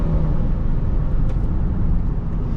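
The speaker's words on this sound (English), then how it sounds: "I love the way this V6 sounds with those like shifts, like dish, dish" V6 engine of a 2005 Honda Pilot EX-L heard from inside the cabin while driving, a loud, steady low drone with road rumble and slight swells in pitch, no distinct shift break standing out, no talking.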